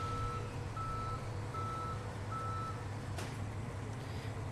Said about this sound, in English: What a freaking crazy tow truck, man.